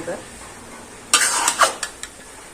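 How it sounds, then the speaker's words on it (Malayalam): Green gram thoran being stirred in a pan: after a second of near quiet, a run of close, bright scraping and clinking strokes follows, with a few sharp spoon taps toward the end. "അതിന് നമുക്ക് ഇളക്കി യോജിപ്പിക്കാം എല്ലാ ഭാഗത്തേക്കും അതിന്റെ ഗ്രേവി എത്തണ"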